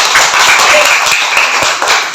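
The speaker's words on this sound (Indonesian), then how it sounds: "tepuk tangan untuk kita semua" A class claps for everyone together, a dense stretch of many hands applauding at once, steady and fairly loud throughout, with some voices mixed in.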